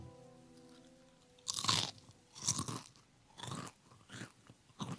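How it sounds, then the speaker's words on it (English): Sour cream and cheddar potato chips are chewed up close, with five loud, evenly spaced crunching bites, alone and without talking. "some people have a thing about chewing sounds."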